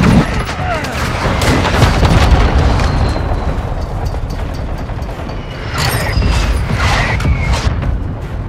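Call of Duty: Modern Warfare II battle sounds, a claymore explosion among heavy gunfire: loud booming blasts and rapid fusillades fill the clip, with mechanical clanks and whistling sweeps in a dense, continuous combat mix.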